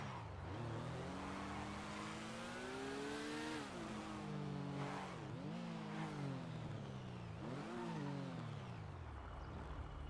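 A BMW R1200 motorcycle engine in GTA 5 drones and revs repeatedly, its pitch climbing and dropping through several throttle blips and gear changes, close and continuous.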